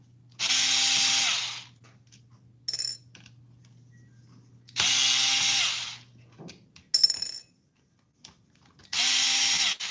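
A cordless power screwdriver drives screws on a DragBug chassis in three sustained, loud whirring bursts. Short clicks and clatter sit between the bursts, and there is no talking.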